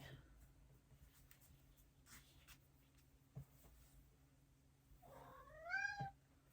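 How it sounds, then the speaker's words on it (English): A cat meows once, short and rising, fairly close, against a quiet room with faint rustling. "he just meowed"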